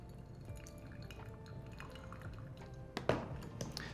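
Rinse water trickles and drips onto a paper filter in an Orea V4 coffee brewer, soft, close dripping that builds into a brief louder pour near the end.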